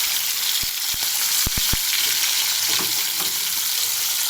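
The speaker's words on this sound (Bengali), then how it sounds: "তো আমার তেলটা হয়ে গেছে, মাছ এক এক করে ছাড়বো।" Large fish pieces, added one by one to hot oil after a nigella seed tempering, fry with a loud, dense close sizzle punctuated by several sharp clacks and spatters early on, no voices.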